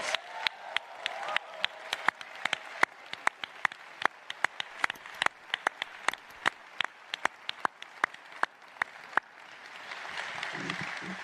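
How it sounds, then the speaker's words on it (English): Graduation ceremony audience applauding the class of 2025, sparse, distinct hand claps at first, then building into a denser wash of clapping toward the end, moderately distant. "It's time to give yourselves a massive round of applause"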